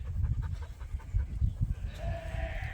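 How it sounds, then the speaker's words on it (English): Sheep and lambs out grazing in a pasture bleat in a scattered, overlapping series of short calls, fairly close and moderately loud over a low rumble of background noise. "Silly sheep."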